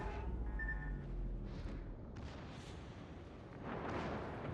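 Naval guns fire in the World of Warships game, with a Cleveland cruiser engaging a Shima destroyer, giving a few deep booming blasts that fade into rumbling tails over about four seconds.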